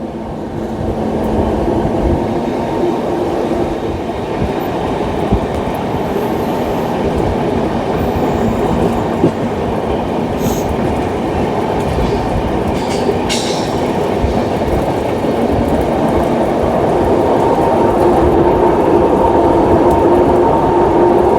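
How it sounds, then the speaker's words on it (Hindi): A long passenger train on the Delhi to Ranchi route, the Jharkhand Sampark Kranti, rolls past on the tracks in a cold morning, giving a loud, continuous rumble and rattle of wheels with occasional faint squeals. "कितना लंबा ट्रेन घूम रही है देखिए दोस्तों"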